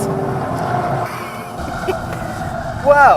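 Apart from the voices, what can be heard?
2016 Ford Focus RS engine with artificial noise pumped in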